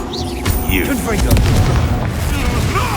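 A Confringo blasting spell explodes in the video game Hogwarts Legacy, with deep booming blasts rolling through a dense mix of game effects and background sound.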